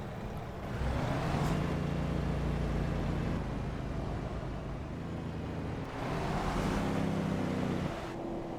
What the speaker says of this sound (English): Not a bad engine brake.